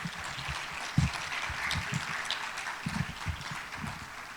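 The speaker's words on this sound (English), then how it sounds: "a round of applause for Ms. Charles." Audience applause for a presenter at a conference morning session: a steady, even wash of many hands clapping, held at moderate loudness for several seconds without a break.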